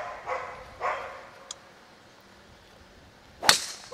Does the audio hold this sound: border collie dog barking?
yes